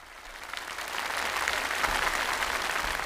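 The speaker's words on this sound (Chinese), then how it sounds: "我好想邀请各位观众俾掌声你" A studio audience at a televised singing contest breaks into applause that swells from soft to full, sustained clapping, heard alone.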